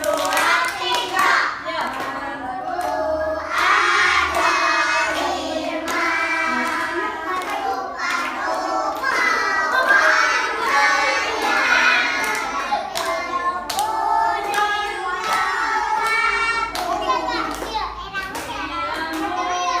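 Young kindergarten children clap their hands together in a lively, uneven rhythm while their high voices sing and chatter over and around the claps.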